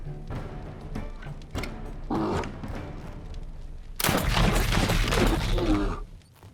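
Crossbow gunners fire volleys at a bear in a strategy video game, a series of thumping shots followed by a louder, dense burst of impacts and roaring battle noise.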